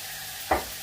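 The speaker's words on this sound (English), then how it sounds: "I will just cook up the bacon, wait till it goes a little bit crispy" Bacon frying in a pan as it crisps up: a short sizzling burst flares near the middle over a faint, steady background hiss.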